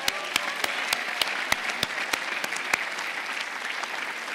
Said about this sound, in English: I would say a round of applause for Yuri